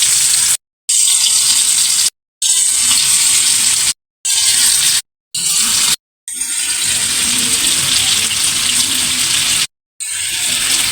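Fish frying in hot oil in a home kitchen, a loud steady hiss and sizzle broken by several short silent gaps, then continuing without pause.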